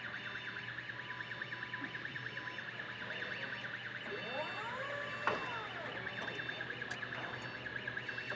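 A LIFT HERO CPD30 6,000 lb electric forklift sounds a steady electronic alarm after its startup checks, with repeating tonal warbles over a constant mechanical whine. A sharp click cuts in midway, and the sound stays moderately faint throughout.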